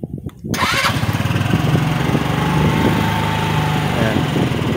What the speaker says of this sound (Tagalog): So upon starting, uhugong muna ng mataas yan, magtataas muna ng minor yan.